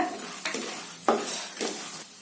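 Chana dal, peanuts and urad dal fry in a pan, a soft steady sizzle broken by a few brisk stirring scrapes, close and moderately quiet, with no talking.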